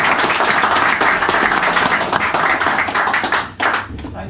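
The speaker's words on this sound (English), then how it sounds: "Big round of applause." An audience at a soaring club talk in 2021 claps in sustained, dense applause, loud and close, easing briefly near the end before picking up again.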